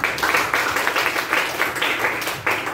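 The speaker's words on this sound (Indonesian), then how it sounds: "Tepuk tangan sama si Desa." A school class claps in rhythmic bursts of applause, close and fairly loud, a few short rounds in quick succession.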